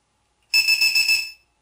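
LiPo low-battery alarm sounds when connected to the battery: a shrill, piercing electronic buzz pulsing in a quick run of four rapid beeps, close and loud, then cutting off.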